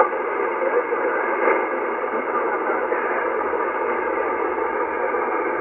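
A weak amateur radio voice signal on the 40-meter band, received on a magnetic loop antenna in noisy Seoul, comes through as a muffled, band-limited voice buried in steady hiss and static.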